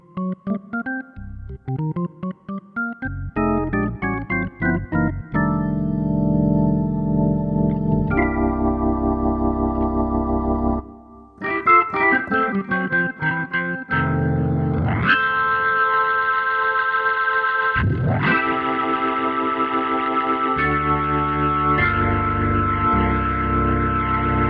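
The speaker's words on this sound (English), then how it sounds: "So if I turn the variation button, I get a different organ sound." Korg SV2 stage piano playing drawbar organ voices, with the variation setting giving a different organ tone: chords and short runs, some held with a swirling rotary-speaker effect, no talking.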